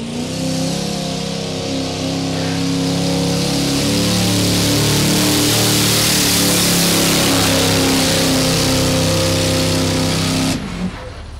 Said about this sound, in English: last truck of the day for Diesel Power Challenge 2018 sled pull